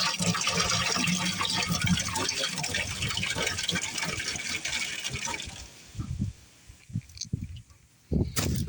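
A premixed blend of apple cider and white vinegar is poured into jars, a close, sustained splashing gush that tapers off into intermittent trickles and drips toward the end.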